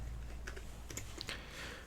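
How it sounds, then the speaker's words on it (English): Soft, irregular keyboard clicks tapping away in short bursts over a low steady hum, close and fairly quiet, with no voices. "Sorry if you hear a little bit of keyboard clicking."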